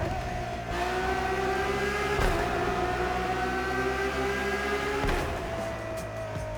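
A car engine in the video game The Crew Motorfest drones and revs steadily, rising in pitch with brief shifts, loud and continuous with no voices.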